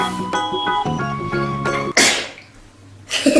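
A child sneezes once, a sharp burst over light music during a pretend doctor game, followed by a softer breathy sound.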